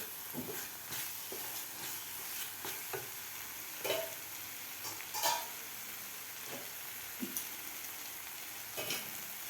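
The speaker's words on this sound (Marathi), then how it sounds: "कूट घातल्यानंतर व्यवस्थित त्या मसाल्यामध्ये परतून घ्यायचं आहे" Roasted peanut powder being stirred into a spicy masala with drumsticks, giving a soft continuous sizzle broken by scattered scrapes and taps of a spoon, close but fairly quiet.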